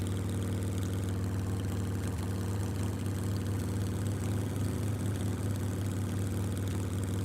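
A motorcycle engine runs steadily in the survival video game Scum, a constant low droning hum at even volume throughout with no pauses.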